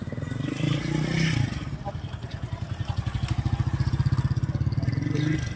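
A motorcycle engine pulses steadily and rises in a rhythmic throb as a learner rider lets out the clutch and opens the throttle during a riding lesson, close by, under an instructor's voice.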